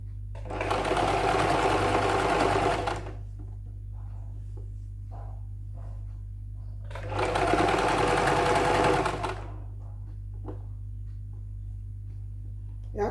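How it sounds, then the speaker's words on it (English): A sewing machine stitches the crotch seam of chiffon trousers in two loud sustained runs of about two and three seconds, separated by quieter handling noise over a steady low hum. "So I'm going to pin it all around and take it to the machine and stitch it."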